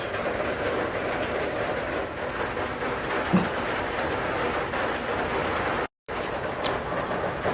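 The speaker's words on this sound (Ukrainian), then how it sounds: "Просто дощ, дощ великий, нема нічого страшного." Heavy rain pours down in a steady, loud, broadband roar that continues unbroken apart from a brief dropout, with no voices over it.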